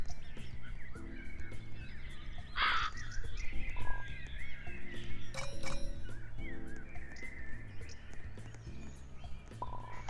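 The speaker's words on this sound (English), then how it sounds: "It sounds like a raven. Or a crow." An angry-sounding crow or raven caws in a Roblox game, a few harsh calls standing out over a steady game music bed, moderately loud and close.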